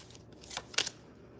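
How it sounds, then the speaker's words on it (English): Haunted House Tarot deck being shuffled, giving two brief papery riffling bursts close by in a quiet room, the second slightly louder than the first, with no talking. "we're going to go ahead and shuffle our Haunted House Tarot deck"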